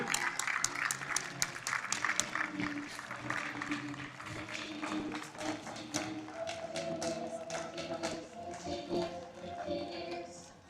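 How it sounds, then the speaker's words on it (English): Steady audience applause at a school district awards ceremony honoring staff, many hands clapping continuously across the clip while music plays underneath. "We're going to honor you, give you a round of applause, play a little music for you."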